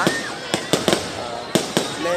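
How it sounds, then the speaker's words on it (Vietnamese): New Year's Eve fireworks burst over Cao Bằng city just after a heavy hailstorm, with no music. About six sharp, loud bangs come at an irregular pace, with voices underneath. "Đấy, hiện tại chỉ có pháo hoa thôi."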